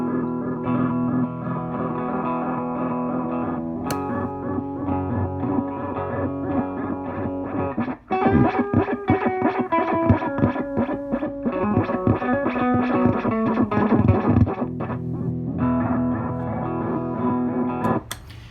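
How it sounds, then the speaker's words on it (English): An electric guitar plays through an MWFX Judder effects pedal at long settings, and midway the tone breaks into harsh, glitchy digital distortion before returning to a cleaner sustained sound. "at long settings you're going to get some digital distortion"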